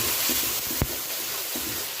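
A paste of ginger, garlic and green chilli sizzles with frying onions in a pan, a soft steady crackle with a brief stir or clink partway through.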